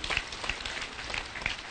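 An audience at a Murang'a Inua Masomo education event applauds the county governor, a soft, diffuse patter of clapping heard from some distance, fairly quiet and steady.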